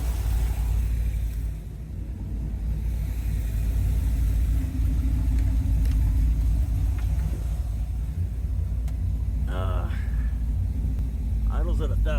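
A 1981 Corvette engine idles after a carburetor rebuild, a steady low rumble running the whole time, close by, with people talking over it and a couple of brief higher sounds near the end.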